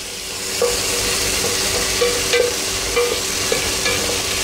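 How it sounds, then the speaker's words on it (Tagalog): Ingredients for salmon head sinigang sautéing in a pan, giving a steady sizzle and hiss broken by a few soft clinks and scrapes of stirring. "Gisahin lang natin sila para maluto."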